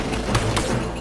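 Gunfire in the 2004 military tactics game Full Spectrum Warrior, a steady mix of shots and a couple of sharper bursts over constant battle noise, with no clear talk.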